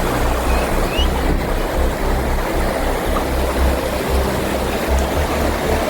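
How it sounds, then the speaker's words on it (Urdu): Green river water rushes and splashes over rocks in Kumrat Valley, Pakistan, a loud, constant roar close by with a rumbling low churn and no voices. "اس دریا سے گزرتے ہوئے یہ چھلکتا ہوا پانی"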